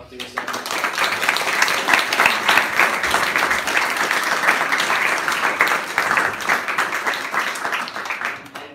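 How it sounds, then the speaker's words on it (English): An audience at a youth program gives a round of applause for Dr. Nissan, a fairly loud, sustained wash of clapping that swells after a quiet start and continues evenly to the end. "a big round of applause for Dr. Nissan."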